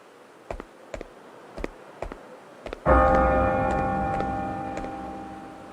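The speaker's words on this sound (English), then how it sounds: "The bell!" A church-like bell in the video game Bravely Default 2 strikes once loudly after a few sharp ticking knocks, its ringing tone lingering and slowly fading with no talk.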